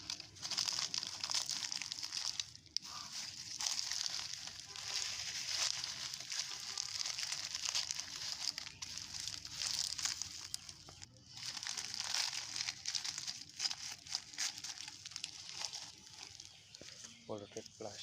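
Collected polluted plastic garbage crinkles and crumples continuously during an outdoor nature cleanup, a close, steady rustling that runs throughout with only brief pauses.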